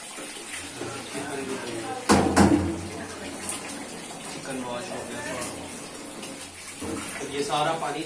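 A kitchen tap runs steadily while ingredients are washed during prep for a Pakistani mutton and cauliflower curry, a continuous loud rush of water with a brief sharper splash, and voices talking over it.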